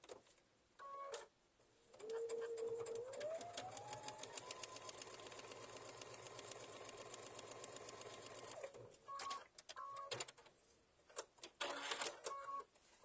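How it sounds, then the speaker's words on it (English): A sewing machine stitches a fabric seam on a quilt block, starting with a few short bursts, then running steadily for several seconds with a rising motor whine, then stopping and giving more short stitching bursts, loud and close. "Just sew that down."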